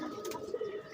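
Pigeons coo softly in a brief, low, throaty burble with a couple of quick rising notes, fairly near and quiet, with no talk over it.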